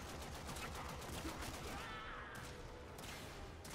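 Gunfire in the video game Warframe rattles continuously in dense, steady bursts that fill the whole stretch at moderate loudness, with a little faint speech under it.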